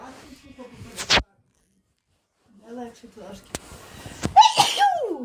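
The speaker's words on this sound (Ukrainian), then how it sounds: "Ось чути будеш, мама чихає." Woman sneezing sharply at home: a loud sneeze, a pause of silence, then further sneezes and breathy bursts, with a child's and adult's voices speaking around them.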